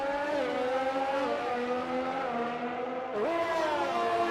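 A Formula 1 racing car in the video game F1 2020 screams at high revs with a steady, whining engine note, briefly dipping and climbing again as it shifts, loud and continuous throughout.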